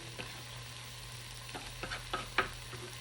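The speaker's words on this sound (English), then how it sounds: "So while chicken is cooling off, we're going to saute the veggies, which in this case is a medium onion." A medium onion sautés in olive oil in a pan, giving a soft low sizzle under a steady hum, broken by a few stirring scrapes and clinks of a utensil, close and quiet.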